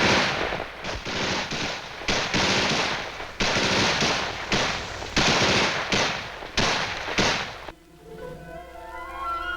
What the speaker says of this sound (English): the Viet Cong hit them with mortars and harassing small arms fire